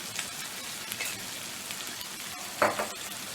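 Mutton with a spoonful of fried spice mix sautéed low and slow in a pan for kosha, giving a soft, steady sizzle with a brief stirring scrape near the end.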